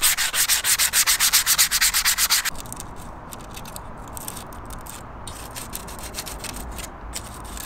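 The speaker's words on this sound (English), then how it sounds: "And I'm just sanding it down." Steady rhythmic hand sanding of a car bumper grill, rapid back-and-forth strokes loud at first, then a softer continuous scraping rub for the rest, close by with no talking.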